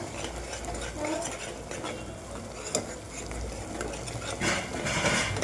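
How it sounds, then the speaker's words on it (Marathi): Masala of coriander powder, red chilli powder and garam masala is sautéed in oil in a pan for a chicken dish. A spoon scrapes and stirs against the pan continuously over a soft sizzle, close and fairly quiet. "आता हा मसाला ना 1 मिनिटभर चांगला परतून घ्यायचा"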